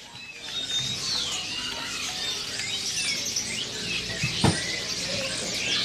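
Canaries, including brightly coloured loper canaries, chirp and trill at a bird shop stall in Pramuka bird market, a dense layer of high twittering from many birds at once, with a brief low thump near the end.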